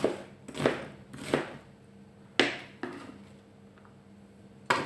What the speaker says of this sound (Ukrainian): Іншу цибулину ми розрізаємо просто на такі великі шматки.